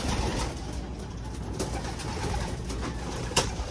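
Soft cooing from pigeons being given water mixed with other bird calls, a steady low murmur of birds close by with a brief louder click near the end.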